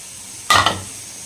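Tamarind paste stirred into sizzling village-style sundakkai vathal kuzhambu in a clay pot: a sudden loud hiss and splutter of hot liquid rises sharply, flares a second time, then settles into a low steady simmering sizzle.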